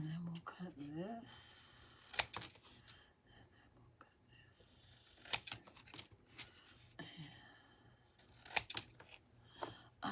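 Paper is cut with scissors for a junk journal in a series of short crisp snips at a close, quiet level, with soft speech in between.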